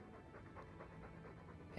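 A dog pants softly and steadily in the Dragon Age II video game, a low continuous breathing that runs throughout and ends with a brief louder burst.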